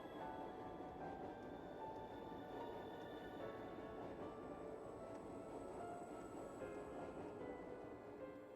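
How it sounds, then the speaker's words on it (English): A tram arriving and rolling along in the Trails of Cold Steel III video game, a steady low rumble of wheels on rails with faint tonal hum, continuous and moderately distant. "Ah, the tram came at the perfect time."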